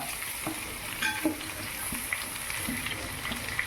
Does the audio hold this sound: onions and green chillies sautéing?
yes